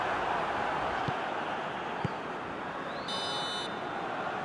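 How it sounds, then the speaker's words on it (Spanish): Referee's final whistle in a PES football video game during a Champions League quarter-final, a single shrill blast lasting about half a second over steady stadium crowd noise. "El pitido final del árbitro acaba con sus posibilidades de levantar el empate."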